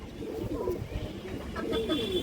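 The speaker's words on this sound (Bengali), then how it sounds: "এই যে কবুতরগুলো দেখেন দর্শক" Several pigeons at a Bengali pigeon seller's loft, including red-banded and boot-beaked fancy breeds, coo in low rolling phrases, overlapping and fairly close, with a steady crowded background murmur.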